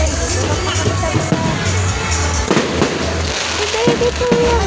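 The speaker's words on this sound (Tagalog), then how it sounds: "Fireworks." Fireworks bursting over a town plaza during a crowded celebration, a rapid string of loud pops and crackles over a dense murmur of people talking nearby.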